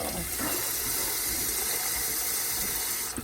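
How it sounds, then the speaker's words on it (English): Water from a tap runs steadily into a cooking pot for rice, a continuous close splashing rush lasting a few seconds with no speech. "So to this, I'm going to go ahead and add some water"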